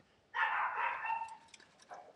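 A dog, one of three in the household, lets out a single drawn-out, whining bark, close and fairly loud, followed by a faint short yip.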